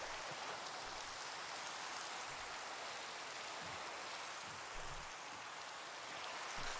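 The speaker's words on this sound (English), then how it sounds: "And it's raining." Steady rain falling in Minecraft, an even hiss of rainfall that holds constant throughout without breaks, with no voices over it.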